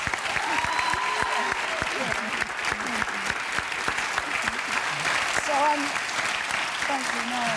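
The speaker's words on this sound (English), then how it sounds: "Round of applause for that." A studio audience at a talk show applauding, with dense rapid clapping and some cheering. Someone speaks over the applause now and then.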